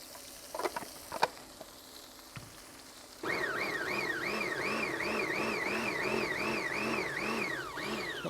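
A food processor whizzes drained chickpeas after a few quiet clicks and bumps. The motor starts abruptly into a loud steady whir with rhythmic rising and falling pulses as the blade churns, close and without talking.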